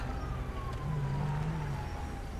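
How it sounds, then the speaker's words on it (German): A faint ambulance siren wails in the distance during a GTA 5 LSPDFR police patrol, its gliding tone sitting low under a constant rumble of traffic and engine noise. "Da kommt der Krankenwagen."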